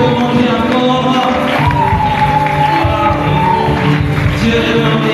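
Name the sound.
church congregation cheering and acclaiming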